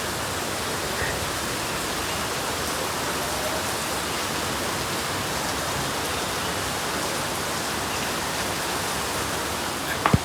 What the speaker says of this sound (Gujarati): વરસાદ બહાર બહુ જોરદારનો આવે છે અત્યારે